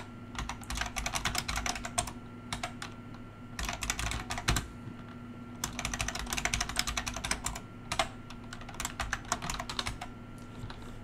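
Typing on the keyboard of an Epson PC-486GR computer, fast clattering bursts of key presses recorded close, pausing briefly between runs over a low steady hum.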